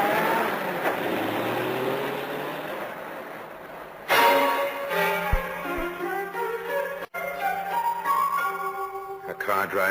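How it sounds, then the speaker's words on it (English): A car in an old radio crime drama pulls away, first with a broad rushing noise, then a loud engine revving up through the gears and fading, with voices over part of it. "A car drives away."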